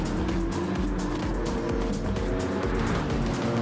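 A BMW race car runs at full throttle around Mount Panorama in a racing game, its engine roaring loud and steady with rapid pulsing and brief tire noise, with no talk over it.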